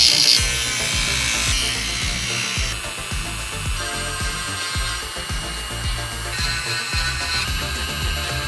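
A LEGO minifigure beard piece is trimmed with a small tool, giving a close series of rhythmic scraping, sawing strokes with clicky ratchet-like texture throughout.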